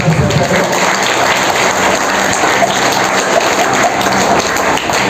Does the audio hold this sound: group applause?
yes